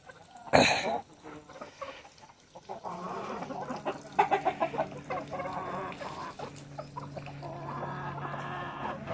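Clucking of a parrot-beak hen at a poultry coop, opening with a sharp loud squawk and then repeated clucks at close range, with a voice talking faintly in the background.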